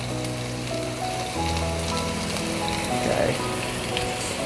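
Pieces of kofta chicken sizzle and fry steadily in a pan, a loud, continuous crackling hiss with a brief spoken word over it.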